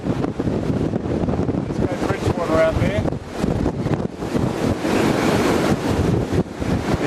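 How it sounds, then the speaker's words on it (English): Strong wind buffets the microphone on an exposed coastal clifftop above a shipwreck site, a loud continuous rumble with gusts and waves beneath, while someone talks over it throughout. "it's very, very windy up here."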